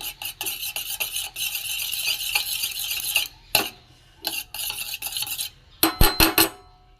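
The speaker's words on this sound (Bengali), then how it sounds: "এখানে একটা ডিম আমি নুন দিয়ে একটু ফেটিয়ে নিচ্ছি।" Egg beaten with salt in a bowl for prawn balls, rapid continuous whisking clatter close by, broken by a pause and a few sharp knocks of the utensil against the bowl, no talking.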